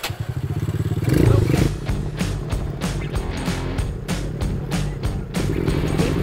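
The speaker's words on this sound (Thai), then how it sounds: "ในกรุงเทพมหานครมี ATV ให้ขับเริ่มเลย" An ATV engine revs and churns as the ride begins at an activity cafe in Bangkok, with a steady rumble, clattering thumps and rising bursts of power throughout.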